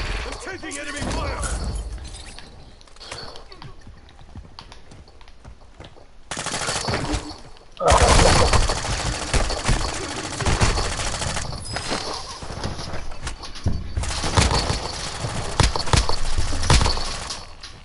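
Enemy gunfire in a shooter video game, with rapid machine-gun bursts and fusillades hammering loudly across the whole stretch, heaviest after the midpoint, while voices talk over the shooting.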